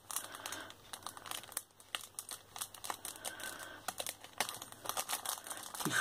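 A paper-wrapped pocket letter, done in reindeer-patterned paper, is slowly unwrapped, with soft crinkling and tearing in irregular bursts and brief pauses, close and fairly quiet.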